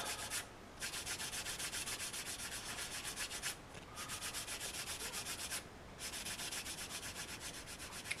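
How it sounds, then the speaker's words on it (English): A flexible 100-grit sanding pad scrubs across a resin figure in quick, steady back-and-forth strokes, a close, soft, gritty rasp with two brief pauses. "I'm going to use this 100 grit sanding pad that's got some flex to it."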